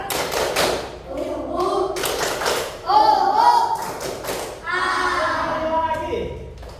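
Schoolchildren in a classroom chant the rhythmic tepuk semangat together, sharp hand claps punctuating their unison voices in quick, patterned bursts at close range.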